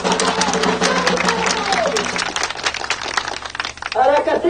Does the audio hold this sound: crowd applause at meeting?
yes